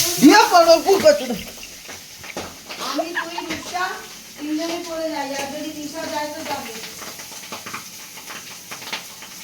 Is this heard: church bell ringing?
no